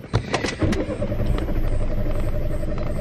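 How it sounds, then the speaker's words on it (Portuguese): A car engine is cranked and started outdoors at night, with a burst of starter and engine noise early on settling into a steady running rumble that continues close by. "Vou ligar agora o carro aqui, ó."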